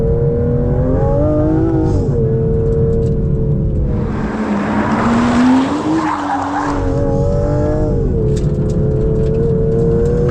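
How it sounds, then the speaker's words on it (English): A 2025 Aston Martin Vanquish accelerating under full power, engine note climbing steadily and loudly with a brief tyre-noise rush midway, heard from inside the car. "So even under full power, it doesn't just spin away the tyres, you know, it's got plenty of traction."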